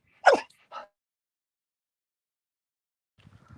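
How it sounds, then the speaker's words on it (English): A small pet dog lets out two short yappy barks close by, followed by silence and then a few faint soft sounds. "Sorry if you hear the little barks."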